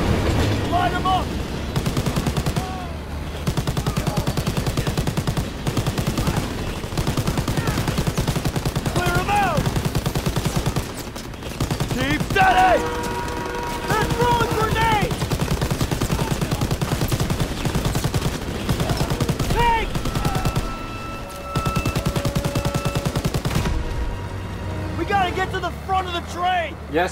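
Rapid bursts of gunfire and machine-gun fire in Call of Duty WW2 during a train mission, loud and dense over a rumbling train, with shouting voices between volleys.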